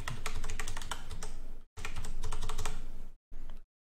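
Fast, close typing on a computer keyboard to enter an IP address into the PuTTY hostname field, with rapid clacking keystrokes in three bursts separated by brief pauses, loud and with no voices.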